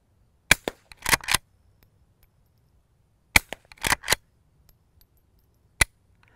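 Suppressed subsonic .22 shots from a threaded Henry Frontier lever-action rifle at seltzer cans, quiet sharp cracks each followed by a lever cycle and can impact, in clusters separated by silence.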